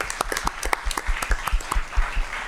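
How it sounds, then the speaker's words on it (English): A modest round of applause at a school district governing board meeting, with individual hand claps distinct and close, a small group clapping in an uneven, lively patter for a couple of seconds. "Let's give her a round of applause as well."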